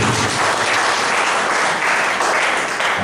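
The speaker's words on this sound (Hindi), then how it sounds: "एक बार फिर से ताली बजाएंगे यीशु मसीह के लिए।" A church congregation claps steadily and densely for Jesus at a Hindi-language service. The applause is loud and continuous from start to finish, with no voices above it.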